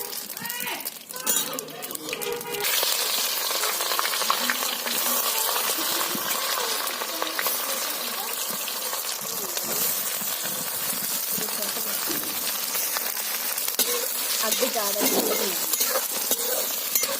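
Cumin seeds sizzle and crackle in hot oil in a pan while cooking a capsicum dish, a steady loud hiss lasting throughout, with voices talking over it.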